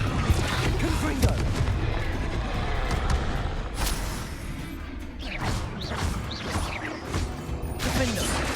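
A Confringo fire spell blasts during combat in the video game Hogwarts Legacy, heard as dense, loud explosive bursts and crackling impacts layered over continuous battle noise and game effects, with a few sharper booms scattered through.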